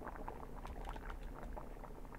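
A pot boils in The Witch's House game, a faint, steady bubbling and popping patter that continues evenly throughout.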